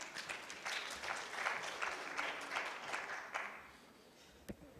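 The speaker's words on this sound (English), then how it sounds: "Round of applause for Richard" Applause at a CFA Institute Research Challenge local final in Kenya: a room full of hands clapping at a moderate distance, faint and even, thinning out near the end.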